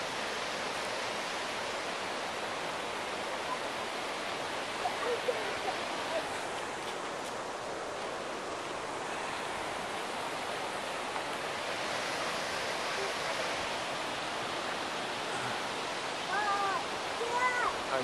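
A steady, broad rush of falling water, fairly faint and continuous, like a waterfall heard from some distance.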